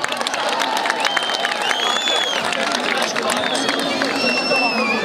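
Audience applauding and cheering at a ceremony welcoming football teams after a big win, a dense steady roar of clapping with whistles and shouts running throughout.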